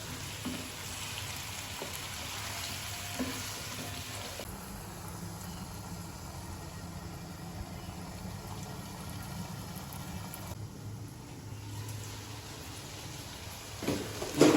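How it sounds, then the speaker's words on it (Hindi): Round gourds (tinda) fry in oil in a pan for a meat curry, giving a steady soft sizzle and crackle that sounds almost like rain and holds at an even level throughout, with no talking. "टिंडे हमारे तो अच्छी तरह से फ्राई हो गए हैं।"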